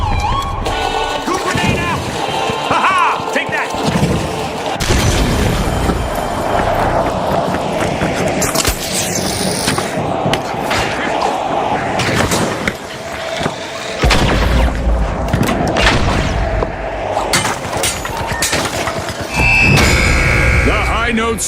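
Grenade explosions and gunfire in a video game make loud, dense, booming and crackling bursts that fill the whole stretch, with voices talking over the chaotic action.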